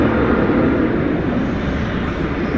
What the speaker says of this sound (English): Now being pushed back. This one's going to Ontario, California. An Airbus A300.